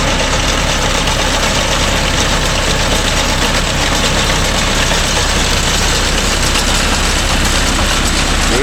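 A Mahindra Yuvo Tech Plus 585 4WD shuttle-gear tractor engine idles steadily and smoothly, with a low, even rumble and no knocking throughout, heard alone without voices.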